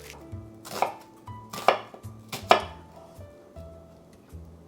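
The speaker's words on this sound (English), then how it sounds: "These onions are going to go through the meat, so you have to cut them very finely" Onions chopped finely with a knife on a board: a slow series of about four crisp, close knife strikes with quiet pauses between them.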